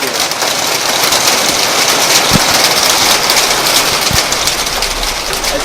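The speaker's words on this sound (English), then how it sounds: "It's really nasty weather outside," Nasty stormy weather outdoors: a steady, loud broadband wash of rain and wind roars without a break, with a couple of brief low thumps, and no voices.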